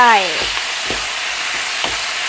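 Pork stir-fried with seasoning powder in a hot pan for a cabbage dish, a steady loud sizzle with rhythmic scraping strokes of the spatula about every half second, close up.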